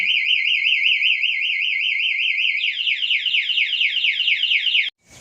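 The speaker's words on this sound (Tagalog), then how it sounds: "nakabit niya na yung alarm" A motorcycle anti-theft alarm wails loudly up close, a warbling siren that switches to a faster rising whoop pattern before cutting off abruptly near the end.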